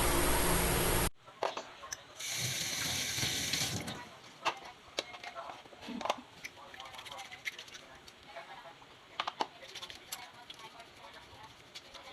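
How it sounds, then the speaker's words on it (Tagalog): Running tap water for hand washing during a nursing bag technique demonstration, a loud steady rush at the start and again briefly, followed by quieter clatter and handling sounds. "we need to do again the hand washing"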